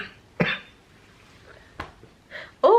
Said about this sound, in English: I'm sneezing like crazy, and it's just a mess right now